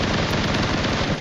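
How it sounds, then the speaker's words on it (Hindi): Rapid automatic gunfire rattles without a break in a shooting video game, a dense, loud burst of closely spaced shots lasting about a second. "लेकिन तभी सामने से फायरिंग होती है"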